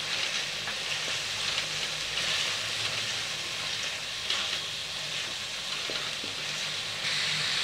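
Curry leaves sizzle steadily in hot oil for a Telugu drumstick curry, a continuous close frying hiss with small pops and no talking.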